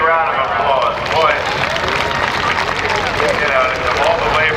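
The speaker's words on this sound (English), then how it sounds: "Let's give him a big round of applause." A crowd claps at a semi truck pull, steady sustained applause from many hands in the open air, with an announcer's voice running over it and a faint engine rumble behind.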